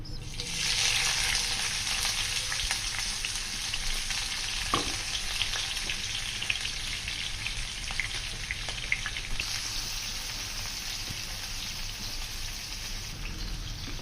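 Chopped onions frying in half a cup of oil in a frying pan give off a dense, continuous crackling hiss, steady and close for the whole stretch with only a faint knock around the middle.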